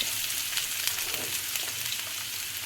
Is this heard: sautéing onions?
yes